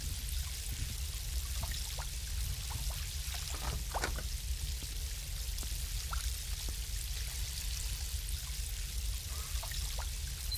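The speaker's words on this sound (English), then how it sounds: "there's water somewhere, I can hear it" Steady running water trickles and pours without pause inside a video game, a continuous near wash of splashing with faint scattered ticks and no talk over it.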